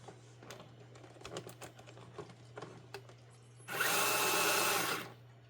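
An FMS Hummer H1 RC car's motor whirs in high gear of its 2-speed transmission, a sharp high-pitched electric whine lasting about a second and a half after quiet clicks and handling noises.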